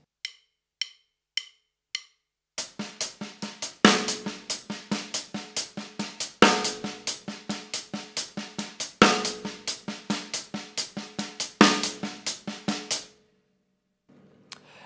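Drum hands playing an Afro-Cuban 6/8 bell pattern: a few sparse opening taps, then a steady, crisp stream of close hits in a rolling triplet pulse with regular louder accents, stopping cleanly near the end.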